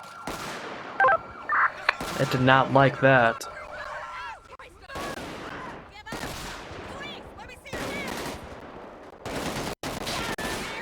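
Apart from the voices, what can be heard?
automatic gunfire in video game GTA 5 LSPDFR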